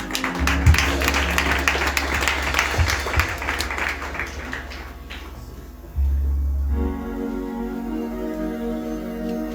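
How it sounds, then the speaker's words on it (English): A church congregation claps their hands together in a loud, dense burst during a worship service, with a low rumble underneath, before the clapping stops and a quieter hum takes over. "Clap hands for the Holy Spirit."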